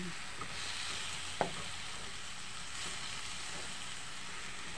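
String beans (sitaw) sizzling in a pan after a splash of water is added, a steady soft frying hiss with a brief sharp crackle, heard up close with no talking.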